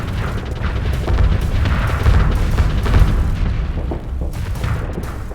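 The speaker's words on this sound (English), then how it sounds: "So we should see the Rift Lances and Shock Repeaters in full form here." Rift Lance and Shock Repeater weapons firing in a Starsector space battle, a steady barrage of booming bursts and crackling pops rolling on with no gaps.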